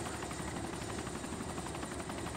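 A helicopter in the video game DayZ Epoch drones steadily and close, its rotor and engine noise filling the short stretch without pause or talk.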